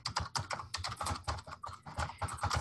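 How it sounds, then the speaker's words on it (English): Rapid, continuous typing on a computer keyboard during an online Q&A session, close clattering keystrokes in a steady uneven rhythm with no talk. "So I'm typing in program director survey."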